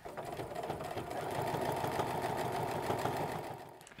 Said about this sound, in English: So I'm going to need to backstitch to start.